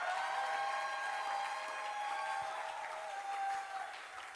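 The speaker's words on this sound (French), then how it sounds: "Est-ce qu'on peut acclamer pour Jésus?" A church congregation applauding steadily at a Christian gathering, a dense continuous clatter of clapping that fades slightly toward the end.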